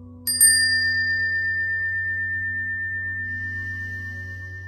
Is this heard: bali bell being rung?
yes